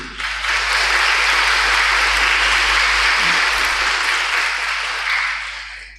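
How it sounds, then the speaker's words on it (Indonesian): An audience at a speech event applauding a visiting Al-Azhar doctor of rhetoric, a dense, loud wash of many hands clapping that swells quickly, holds steady and then begins to fade. "aplaus untuk beliau"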